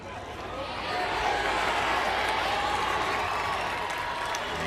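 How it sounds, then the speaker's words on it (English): Record crowd at a men's college lacrosse game between Maryland and Ohio State roars steadily, a broad wash of cheering and applause that swells in the first second and holds loud and dense throughout. "And this record crowd."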